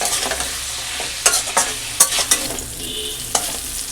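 Carrots, beans, capsicum and beetroot fry with salt in a hot pan for thecha noodles, crackling and sizzling steadily while a spatula scrapes and knocks against the pan in quick, uneven strokes close by.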